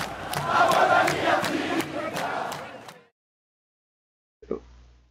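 Crowd cheering from Ponte Preta supporters in the Brasfoot football management game, a loud, dense roar with rhythmic chant-like pulses for about three seconds, then silence and a brief faint burst near the end.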